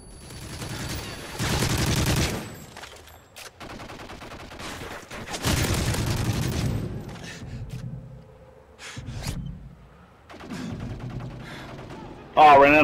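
Modern Warfare 3 gunfire during a tournament match: several loud bursts of rapid fire separated by pauses, with close voices talking and exclaiming between and over the shots.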